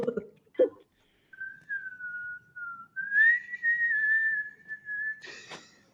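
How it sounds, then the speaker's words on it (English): A long, sustained high whistle, slightly wavering in pitch, follows a couple of short vocal sounds and ends with a brief breathy burst. "pulling his fingers to his mouth and emits a piercing whistle"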